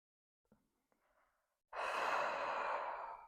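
A single long, breathy exhale during a diaphragmatic breathing exercise for pelvic floor recovery, close and steady after a few faint preceding breath sounds.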